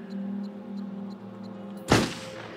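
A single sharp gunshot at a bottle in the video game Until Dawn, one loud close burst after a low steady hum.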